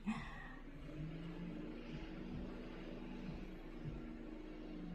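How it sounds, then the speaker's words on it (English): A low, steady rumble of a car passing at a distance, a soft continuous hum of traffic with no voices. "There's a few cars going by."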